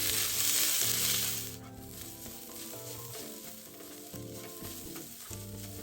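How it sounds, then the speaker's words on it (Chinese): Sliced onions hitting a tablespoon of hot oil in a wok, an intense hissing sizzle that quickly settles into steady frying crackle with scraping stir strokes, close and without voices. "锅中勺入1大匙油，再将备好的洋葱丝倒入爆香。"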